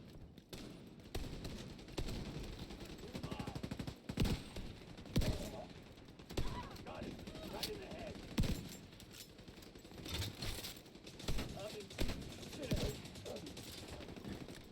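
LMG and marksman rifle fire in The Division 2 arrives as scattered loud shots and short bursts over a busy game mix, with mechanical clicks between them and faint voices underneath.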